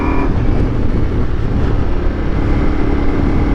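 Ducati Multistrada V4S motorcycle engine running smoothly while riding, a steady, loud, continuous low drone with road and wind noise, no voices.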